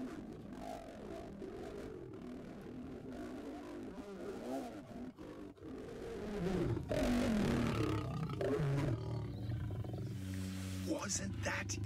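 Several wild lions roar, snarl and growl while a young male tries to join a male coalition and gets bitten in the Maasai Mara, a rough, churning scuffle that swells louder toward the end.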